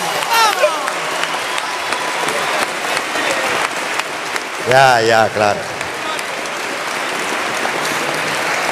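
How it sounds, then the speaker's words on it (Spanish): Audience applause at a murga carnival performance by Los Bambones, a steady wash of clapping from a crowd, with a voice briefly speaking over it midway. "Sí, aplaudan."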